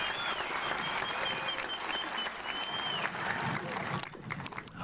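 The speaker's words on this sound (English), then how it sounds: "let's give them all a big round of applause" Sustained applause fills a high school graduation commencement ceremony, a dense, steady clatter of many hands from a large crowd that runs loud for about four seconds before thinning out near the end.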